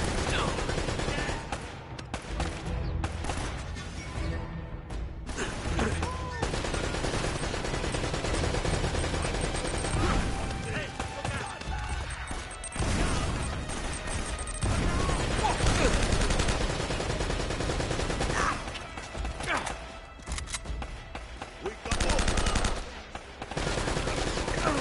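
Sustained M4 rifle bursts in Uncharted: Drake's Fortune, loud rapid gunfire in repeated volleys with brief pauses, mixed with game effects and occasional talking.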